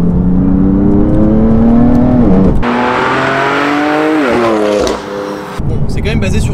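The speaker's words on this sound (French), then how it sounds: "En mode Sport Plus, je sais pas si vous entendez les gargouillements à l'échappement" A BMW M4 GTS engine in Sport Plus mode revving loudly with a throaty exhaust note that rises and falls, crackling and burbling as the revs drop.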